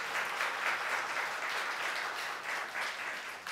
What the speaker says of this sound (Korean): welcome it with a round of applause.